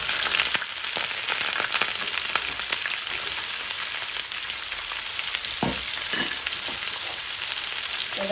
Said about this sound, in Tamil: இப்போ வந்து ஆனியன் வந்து சேர்க்க போகிறோம்.